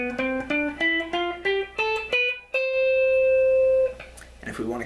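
Electric guitar playing an ascending scale pattern, eight evenly picked clean notes climbing in pitch before a final note rings out long, with a brief voice at the end.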